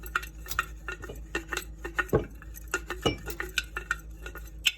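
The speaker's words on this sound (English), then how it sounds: "And then I'm gonna stir it and mix it all together." A utensil stirs sourdough discard into water, scraping the edges of the container with quick repeated clinks and taps, close and fairly quiet, no voices.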